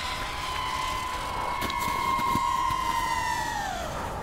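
An HGLRC Sector 5 FPV drone flying with a DJI O3 unit gives a loud, steady high motor whine under full throttle, holding a sustained tone for several seconds before the pitch sweeps downward near the end.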